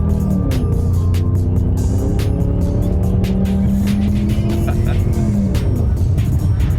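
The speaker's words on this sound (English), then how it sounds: "That exhaust sounds so good." A deep, rumbling twin-turbo V8 exhaust from an Audi C5 RS6 drones steadily from inside the moving car, its pitch rising and falling with throttle, loud and continuous throughout.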